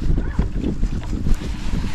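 Steady wind buffeting the microphone in loud low rumbling gusts, with faint water and boat noise underneath while out fishing, no voices.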